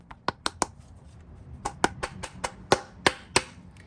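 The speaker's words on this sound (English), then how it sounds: "I'm going to put it on there and I'm going to tap it home with a plastic mallet" About eleven sharp taps of a plastic mallet driving a 32 mm socket onto a Toyota/Lexus 5.7L 3UR-FE engine during valve cover gasket work: a quick group of three, a pause, then a steadier run of eight close, crisp knocks.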